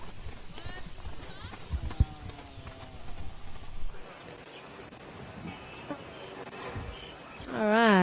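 Horse hooves clip-clop at a canter across a dressage arena during an adult eventing championship in South Africa, steady rhythmic footfalls at moderate distance with commentary voices over them and a whinny-like sweep near the end.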